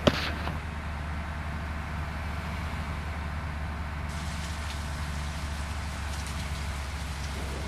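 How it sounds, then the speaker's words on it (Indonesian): Light drizzle patters steadily in a bus driving video game at night on a rural route, a soft continuous hiss of rain over a low engine rumble, with no talking. "sudah mulai gerimis-gerimis, sudah mulai rintik-rintik"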